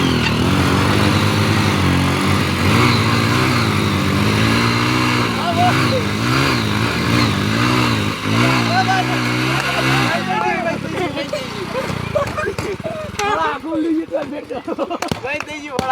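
Hero HF Deluxe and Bajaj Platina motorcycles race with loud, revving engines whose pitch rises and falls steadily, close and continuous, then thin out into rougher, more distant sputtering near the end, with voices shouting over them.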